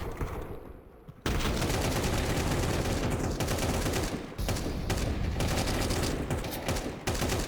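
Dense, loud AK rifle fire during a Counter-Strike match, with rapid overlapping bursts that run almost without a break after a quieter opening second, and one brief dip midway.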